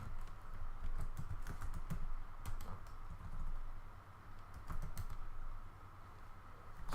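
Rapid bursts of key clicks on a computer keyboard as a terminal command is entered, close and clear, with brief pauses between clusters of keystrokes and no talking.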